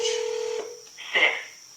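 Two telephone dialing tones sound in quick succession, one steady beep followed by a second shorter one, clear and close.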